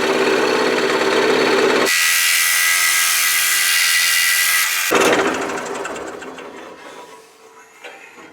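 Power saw with a number 12 blade and a dust blower cutting between two teeth of a thick piece, heard as a loud, close, steady whine for several seconds that stops abruptly, followed by fading tool rattle and clatter.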